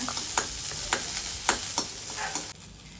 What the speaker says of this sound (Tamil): இதை நல்லா வதக்கி விடலாங்க